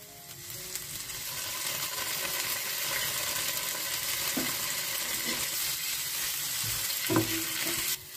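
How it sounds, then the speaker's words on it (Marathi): Ginger garlic paste sizzles with sliced onions in a pan for Goan egg patties, a steady close frying hiss with occasional louder spatters and spoon scrapes throughout. "आता घालुया आमी जिंजर गार्लिक पेस्ट"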